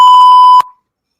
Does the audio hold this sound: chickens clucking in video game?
no